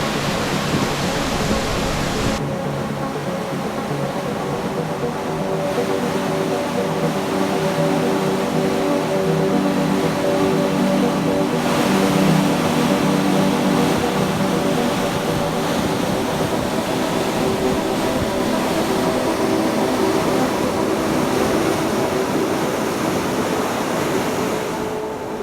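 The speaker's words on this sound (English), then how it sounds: "This is what the wind's like out here." Strong wind on Scotland's west coast roars as a loud, constant broadband rush for the whole stretch, steady with only slight gusting swells and no voices.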